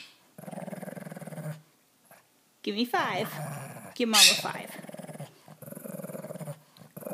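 A pet dog growls and grumbles in low rumbling bursts, close by, alternating with someone talking to it.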